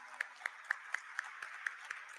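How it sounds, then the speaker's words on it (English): Audience applause at the Swiggy Limited listing ceremony at the NSE: a sparse, quiet scattering of about eight separate claps at a steady pace, thin and distant in a large hall. "Let's have a huge round of applause for the Swiggy Limited team, everyone."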